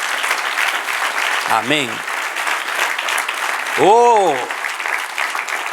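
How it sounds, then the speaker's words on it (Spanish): Church congregation clapping during a Spanish-language sermon on the New Testament, a sustained, moderately loud patter while a preacher speaks over it with drawn-out, sung-like exclamations. "Denle un aplauso al que reina."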